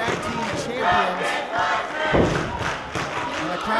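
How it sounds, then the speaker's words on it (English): A wrestling arena crowd roars and shouts continuously at a tag team match, with thuds from the ring cutting through the loud, sustained cheering. "the crowd trying to urge them to get revenge here"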